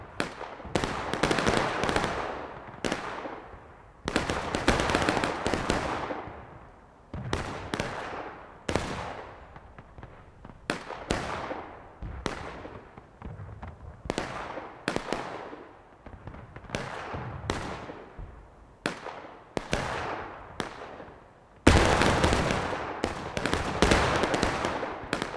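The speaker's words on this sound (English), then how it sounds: "they're trying to use their artillery to make up the difference." Cannon blasts from artillery in the Civil War game War of Rights at Bolivar Heights: a long series of loud booming shots, each with a trailing rumble, spaced irregularly and sometimes overlapping, with no voices.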